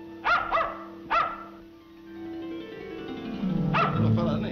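Small toy dog giving three quick high barks close by, a pause, then a fourth bark over rising background music; a scene from the 1938 comedy Topper Takes a Trip.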